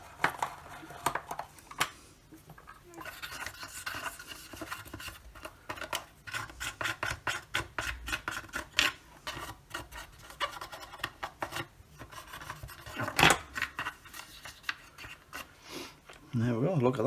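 Rust being rubbed off a metal part of a vintage Entex Pac-Man 2 handheld game with isopropyl alcohol: repeated close scratchy rubbing strokes in uneven bursts, with faint talk in places.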